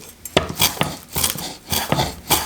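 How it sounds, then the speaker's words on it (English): A knife chops fresh parsley on a board for a Spanish-style mussels dish, each blow a sharp knock landing in a quick, uneven rhythm of about seven strikes, close and clear with no talk. "Chop it up roughly."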